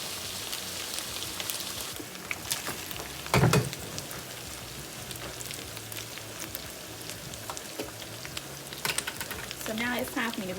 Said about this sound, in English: I still like to stir my pasta.